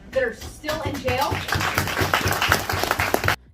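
A group of people claps together in a steady rhythm beneath music and talking, the clapping starting partway through and cutting off abruptly.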